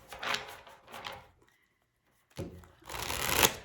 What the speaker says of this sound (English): I'm splitting all the cards, making sure they don't stay together for the next shuffle